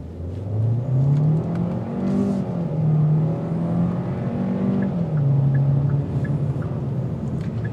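A 2022 Hyundai Sonata Limited in sport mode with manual shifting pulls away hard from a stop, its engine note climbing steadily and dropping at each upshift, loud and close inside the cabin with no talking.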